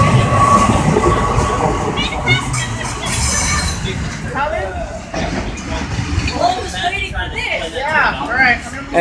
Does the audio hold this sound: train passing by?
yes